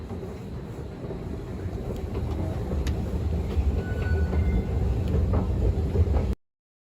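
A train rolls through Moynihan Train Hall in New York with a steady, loud rumble, faint metallic squeals and clicks, growing slightly before cutting off abruptly.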